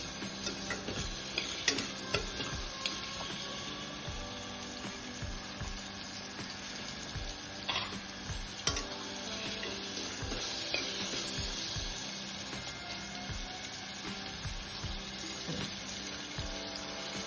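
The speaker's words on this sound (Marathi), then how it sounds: "यामध्ये आता हा फ्रेश मटार टाकून घ्यायचा। साधारण यालाही 1 मिनिट परतायचं।" Fresh green peas sautéed and stirred in a pan while making Maharashtrian matar pulao, a steady close sizzle broken by scraping spoon strokes and occasional clinks, with no talk.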